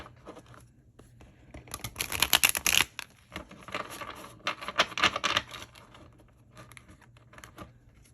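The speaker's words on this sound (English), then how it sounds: "let me shuffle a little bit first" Tarot cards are shuffled by hand in close, papery bursts, with a louder riffling flurry early on followed by lighter, intermittent shuffling and rustling.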